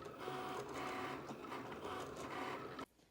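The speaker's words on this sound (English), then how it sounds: "it should start to cut on your machine as well" A Cricut cutting machine runs a cut, giving a steady, continuous whirring and scraping drone of motor and carriage movement that holds for nearly three seconds, then stops abruptly, leaving near silence.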